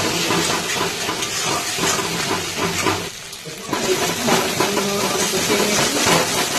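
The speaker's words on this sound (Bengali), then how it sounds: "মশলাটাকে ভালো করে কষাতে হবে, যখন আমার তেল থাকে মশলাতে" Spice paste sizzles and fries in hot oil for a Tel Koi fish curry, a steady close crackling hiss that dips briefly in the middle before resuming at full strength.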